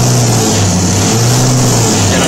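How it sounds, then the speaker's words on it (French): A washing-machine motor driving a homemade electric car hums loudly and steadily up close, a constant drone with a strong low tone for a couple of seconds. "la petite languette que j'ai placée permet de faire varier la vitesse du moteur, que vous pouvez entendre"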